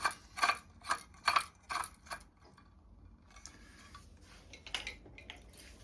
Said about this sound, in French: On se prend le deuxième, on visse le deuxième.